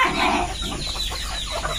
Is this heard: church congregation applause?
no